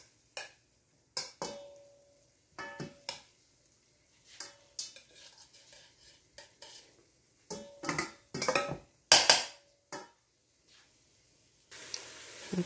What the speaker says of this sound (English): Go ahead and get this sauteed down.